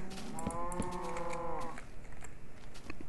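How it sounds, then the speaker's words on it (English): A Minecraft cow lets out a drawn-out moo over a steady background of game ambience, with a few light clicks from a keyboard scattered through. "So many cows."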